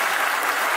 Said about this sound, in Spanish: Brinden un fuerte aplauso a estos muchachos